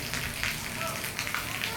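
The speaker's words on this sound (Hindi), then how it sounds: "तो कितनी बारिश हो रही है।" Heavy rain falls steadily, making a dense, even hiss and patter throughout, moderately loud and continuous with no clear breaks.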